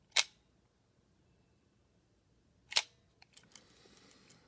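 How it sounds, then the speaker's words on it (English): Two sharp, isolated clicks of a Voigtlander Bessa L film camera shutter firing a few seconds apart, close and crisp in a quiet room, followed by faint handling noises. "So shutter seems to be working just fine."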